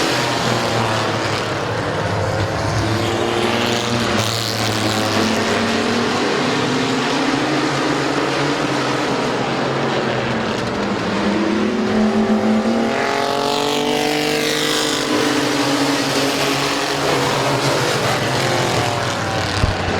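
Race cars on the opening lap at Midvale Speedway roar loudly and continuously at close range, with engine pitch rising and falling as the pack sweeps past. No voices are heard.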